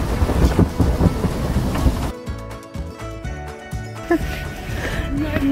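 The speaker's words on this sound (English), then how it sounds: "Okay, there's a storm." A thunderstorm rolls through with loud, rumbling thunder and steady rain, heavy and broad at first and then shifting to a thinner, sustained wash; voices can be heard talking over it.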